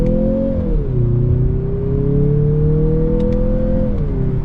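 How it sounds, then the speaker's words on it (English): A 2026 Mazda CX-50 Turbo crossover accelerates from first gear in sport mode, its engine droning loudly and steadily as the pitch climbs, eases back around the shift, then rises again before dropping off near the end. "with that in sport mode, let's test out this acceleration from first gear"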